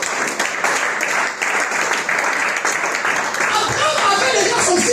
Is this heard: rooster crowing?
no